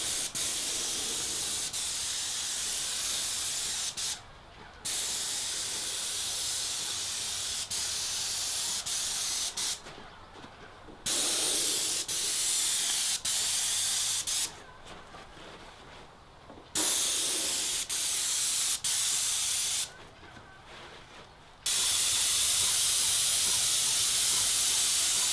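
An airless sprayer applies elastomeric paint to a stucco house wall, a loud steady hiss running in long bursts broken by four brief pauses where the trigger is released, with no talk.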